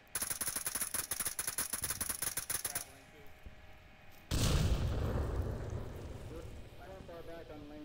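Frag grenade explosion in the Onward VR shooter: a sudden loud, broad blast that rolls on for a few seconds, after a stretch of rapid sharp gunfire-like clatter, with players talking over it.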